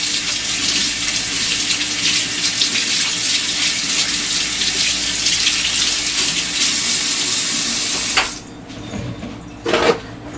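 Water gushes loudly from a tap while hands are washed, a steady close rush that cuts off abruptly near the end, followed by a brief splash.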